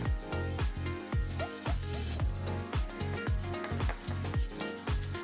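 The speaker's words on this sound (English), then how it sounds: "Rub out the line much, don't need that no more." An eraser rubs out a pencil line on paper during a tattoo sketch of old school swallows. It makes quick, rhythmic back-and-forth scrubbing strokes, about two per second, heard close and alone.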